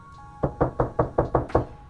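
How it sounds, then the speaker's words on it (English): Six evenly spaced knocks on a door, sharp and fairly close, land in a steady rhythm over a quiet, faintly humming background. "Knock, knock, knock. Someone was at my door."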